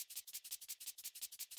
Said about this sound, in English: Then this layer which is more fast.